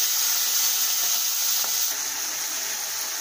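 Prawns sizzling in hot oil with dried chillies and slightly caramelised sugar, a loud, even frying hiss that holds steady throughout with a faint stir near the middle.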